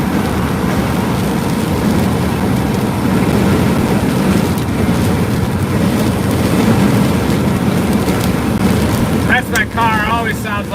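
A storm chaser's car drives through heavy rain ahead of a squall line during spring thunderstorms, giving a steady, loud broadband rumble of road and rain noise that runs the whole time, with a brief voice near the end.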